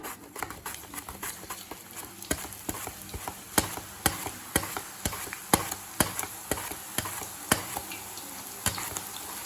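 Raw banana chips frying in hot oil give off a dense, steady crackling sizzle, broken by repeated sharp taps and pops at a fairly regular beat, close up with no voices.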